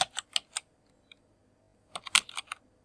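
A search query is typed on a computer keyboard: two quick clusters of crisp, close keystroke clicks separated by a brief quiet pause, with no talking.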